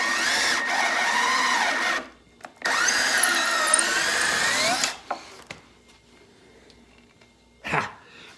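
A power drill whines loudly in two long bursts, pitch wavering as it bites into 2x4 lumber, then stops; a short whir follows after a quiet pause.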